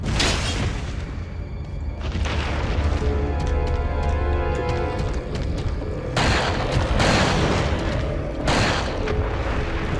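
Gunfire and booming blasts in the video game Resident Evil 4, dense and loud with repeated sharp bursts over a rumbling background.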